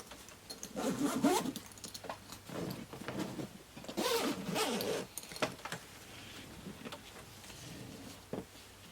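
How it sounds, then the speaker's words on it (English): Two quick zipper pulls rasp along an Eagle Creek Tarmac carry-on bag, with softer fabric rustles and handling noises between them in a quiet room. "So I'll go ahead and zip all this."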